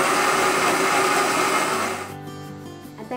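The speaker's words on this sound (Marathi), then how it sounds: "आता हे वाटण आपण वाटून घेऊया" A mixer grinder whirs loudly grinding a Malvani masala paste for a drumstick and potato curry, then winds down to a quieter hum for the last second.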